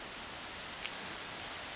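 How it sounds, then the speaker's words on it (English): Rain falls steadily at a bush campsite in the Cariboo, a soft, even hiss with scattered drops, faint and continuous throughout. "she's raining everywhere"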